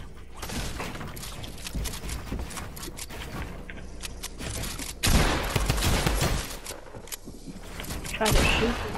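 Pump shotgun blasts in a zone wars shooter game, sharp irregular shots scattered through a busy mix of other gunfire, footsteps and mechanical clatter, with a few louder bursts standing out.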